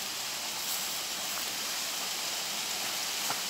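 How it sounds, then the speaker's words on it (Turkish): A waterfall near Ordu, Turkey, swollen after heavy rain, pours in a steady, dense broadband roar that holds evenly throughout without any talking. "Burada bir şelale."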